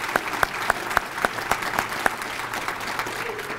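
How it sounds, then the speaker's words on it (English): Audience applause at a county executive's State of the County address in a banquet hall: steady, fairly loud clapping from a large seated crowd, with a few sharper claps standing out at first, continuing without speech. "Let's give Leonardo a big round of applause."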